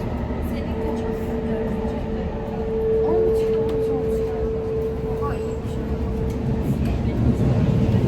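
A steady, rumbling Ankara metro train ride with a low droning hum and rattling, while voices murmur faintly underneath.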